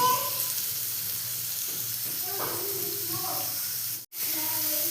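Chopped onions with whole garlic cloves hiss and sizzle in hot oil in a pan for a paneer matar curry, a steady close frying sound with faint background voices and a brief dropout near the end.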